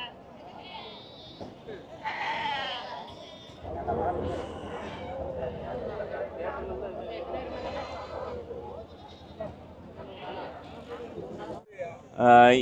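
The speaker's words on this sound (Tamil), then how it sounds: "இப்போ நம்ம வந்து வள்ளியூர் ஆட்டு சந்தையில் தான் இருக்கோம்" Goats bleating at the Valliyur goat market, repeated calls from several animals near and farther off, with people talking throughout the busy market.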